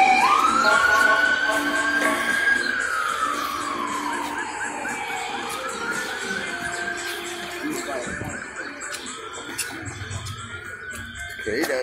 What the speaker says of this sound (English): There's more police headed south with the Christmas trees and the sirens